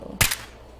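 One sharp, close gunshot in Fallout 4 with a brief echoing tail, alone.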